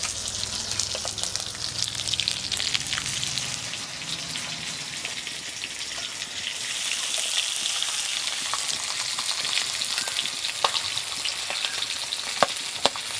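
Potato and onion fry in the oil left from frying grass carp, producing a loud, close, unbroken hiss of bubbling oil with scattered crackles throughout.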